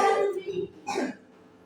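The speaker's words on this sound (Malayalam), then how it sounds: "ഈ ചുമ ഭയങ്കര ചുമയാ" A few harsh coughs close to the microphone, two bursts separated by a short pause, then quiet.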